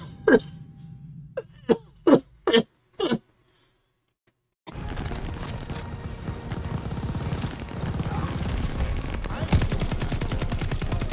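Gunfire in the video game Call of Duty Vanguard: a run of about five separate loud shots, a short silence, then a long dense stretch of sustained rapid fire and battle noise, close and loud.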